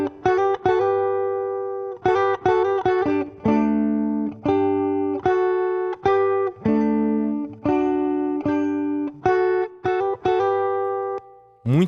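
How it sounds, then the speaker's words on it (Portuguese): A pagode-style guitar plays through a clean Tony X amplifier simulated in Amplitube: rhythmic strummed chords in short bursts, each ringing briefly before it is cut off, with no one speaking. "E simulei um amplificador aqui com o Tony X, que é um plugin da IK Multimídia, que a gente pode usar dentro do Amplitube."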